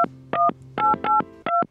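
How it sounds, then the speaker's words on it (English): Touch-tone telephone keypad dialing a number for a Christmas carol phone line, a quick sequence of about six loud, clean dual-pitch beeps in an uneven rhythm with short pauses, heard close and alone. "Let's make a phone call."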